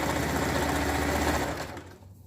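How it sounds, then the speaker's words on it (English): A sewing machine stitching a seam in a jersey leotard, a fast, close, loud mechanical whirr of rapid stitches that slows and stops near the end. "Sorry if the sewing machine's too loud"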